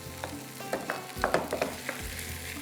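Barbecue pizza topping with barbecue sauce being stirred in a hot pan, a steady close sizzle broken by soft scraping and stirring knocks.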